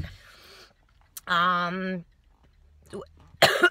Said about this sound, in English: I just have a little bit of a cough.